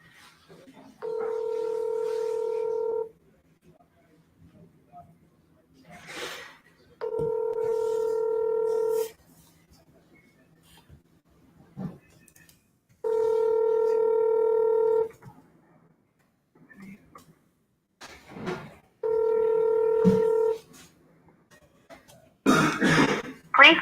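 A phone keypad dials a call in four separate bursts of steady two-tone beeps, each lasting about two seconds, with short gaps and a few faint voice sounds between them.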